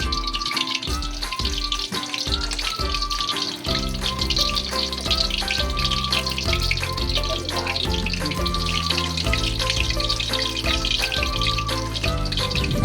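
Gravy in a pan hisses and sizzles as a little water is added, a loud, continuous crackling spatter throughout, layered under background music.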